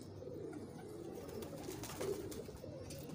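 A female pigeon coos softly in a breeder's loft, a few low, throaty coos rising briefly over faint background noise.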